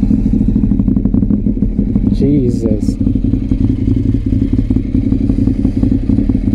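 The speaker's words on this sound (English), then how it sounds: "it's crazy the difference in how good this exhaust sounds on this bike." A Ducati 848 Evo motorcycle idles loud and close, its exhaust thrumming with a rapid, lumpy pulse; a man briefly exclaims over the steady engine.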